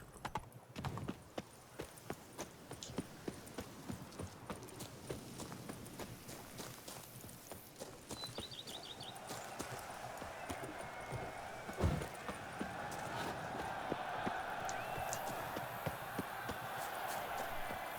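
Horse hooves in the Witcher 3: Blood and Wine video game, a quick irregular clip-clop of a horse moving over hard ground, with game ambience and a rising effect sound joining in later; moderately loud and close.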